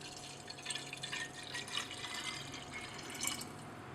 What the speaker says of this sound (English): We poured this into a separating funnel.